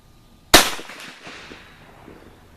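A single sharp rifle shot from a Savage 340 chambered in 30-30 Winchester, firing cast Lyman 311041 bullets at an outdoor range, cracks loudly then decays into a short fading echo.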